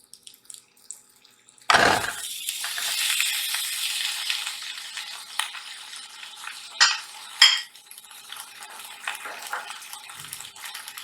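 Potatoes drop into hot oil in a pan with a sudden loud sizzle. The sizzle fades to a softer hiss while a utensil stirs, and two sharp scrapes or clinks stand out near the end.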